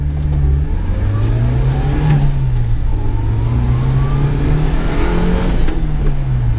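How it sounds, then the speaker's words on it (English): A 1991 Subaru Sambar 2WD van with its engine mounted in the rear and a dead alternator runs smoothly, giving a steady, close, loud low-pitched drone that rises and falls slightly in pitch throughout, with no voices. "The idling is really smooth. The engine is in the back"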